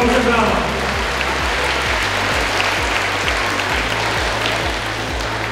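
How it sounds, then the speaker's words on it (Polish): Warm applause rolls through the hall at the opening of the 2022 Polish schools championship as the city president of Stargard is welcomed, a steady dense wash of clapping over a looping low musical beat. "Gorące brawa."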